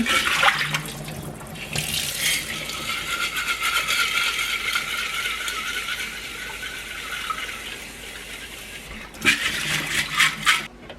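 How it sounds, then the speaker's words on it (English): Sprouting seeds rinsed in a jar under running tap water: a loud, continuous gush and splash with a rattle of seeds, a brief pause, then a sharper burst of pouring and sloshing. "This one too, I'm just going to rinse it."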